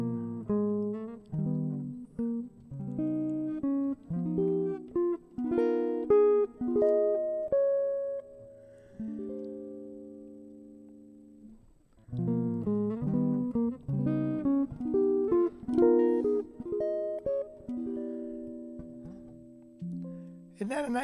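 A clean jazz guitar plays a longer lick as a run of distinct single notes and brief chords, pausing on a sustained note midway, then playing a second phrase, close and moderately quiet.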